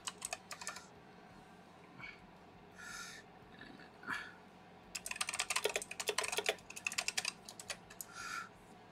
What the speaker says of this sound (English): just typing something here for Twitch